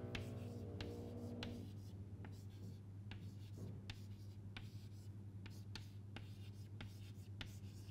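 Chalk or marker strokes on a board during a university maths lecture on permutations and combinations, a steady series of short scratchy taps over a constant low hum, with no talking.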